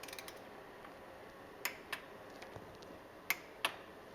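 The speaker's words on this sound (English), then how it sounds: "And then we'll torque these filter bolts to 96 inch-pounds." Torque wrench tightening transmission filter bolts on a 2017-2020 Ford Raptor, a few sharp faint ratchet clicks spaced irregularly over quiet workshop background, with no talk.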